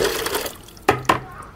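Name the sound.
water being poured into a car coolant reservoir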